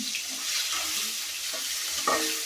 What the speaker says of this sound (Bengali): এই মাছগুলো ভাজা হয়েছে